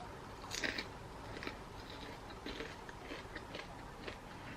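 Crunchy fish skin being chewed close up, with a few sharp bites and crackly crunches spread across a few seconds over a faint, steady background hiss.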